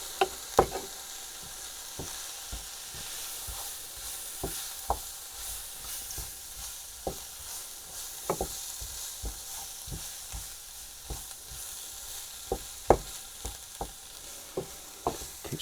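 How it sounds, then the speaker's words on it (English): Flour is stirred into a sausage casserole in a pan, with a soft steady sizzle underneath and a series of scattered scraping knocks from the spoon against the pan. "Gently stir that in."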